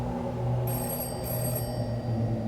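Telephone ringing in the horror video game Hollowbody, an electronic trilling ring that sounds in two short bursts over a low ambient drone.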